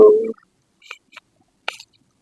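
A few brief, scattered chicken clucks and squawks from a market stall in Pakistan over near silence, after an opening moment of louder sound.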